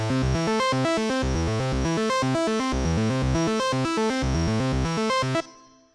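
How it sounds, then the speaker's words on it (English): Cthulhu synth plugin playing a steady, loud sequence of short, bright synth notes in a fast repeating rhythm, the pattern jumping between octaves, then cutting off abruptly near the end with a brief decaying tail. "Now we'll hear the octaves moving around."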